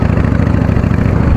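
A customized Yamaha Dragstar 650 cruiser motorcycle idles close by, its V-twin engine thumping in a steady, loping low pulse with nothing else heard.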